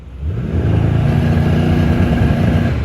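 A Mercedes E63s Edition One engine idles and swells into a deep, steady rumble, close and loud, holding a low throb for a few seconds.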